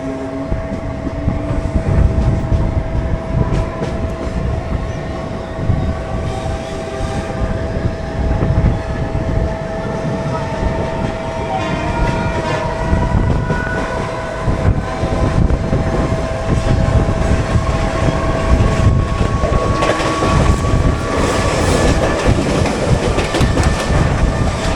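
A Mumbai Harbour Line local train runs steadily along the tracks with a continuous loud rumble and rhythmic clickety-clack of wheels over rail joints, plus occasional high squealing tones, heard from inside the carriage with no talk.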